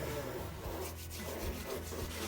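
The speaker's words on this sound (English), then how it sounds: "The easiest way is just rub your hands together." Hands rubbing together to shed sticky pizza dough, a steady close dry friction scraping that continues throughout without a break.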